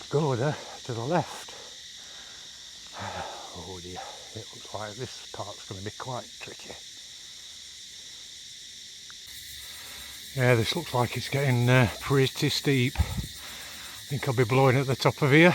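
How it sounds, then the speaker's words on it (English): Steady high-pitched cricket chirring fills the background throughout on a day hike on Koh Larn island, Thailand, with people talking over it in bursts and a quieter stretch in the middle. "crickets are out in force again"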